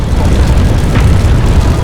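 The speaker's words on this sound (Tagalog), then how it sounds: "Ito ang pagsabog ng Mount Pinatubo." Mount Pinatubo erupting, heard as a loud, continuous deep roar with a dense rumbling low end and no clear breaks, filling the whole stretch.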